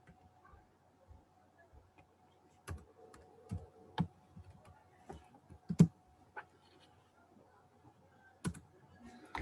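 Keys clatter as a MySQL query is typed on a computer keyboard, soft scattered clicks and taps in short bursts with a few sharper strokes, close and quiet.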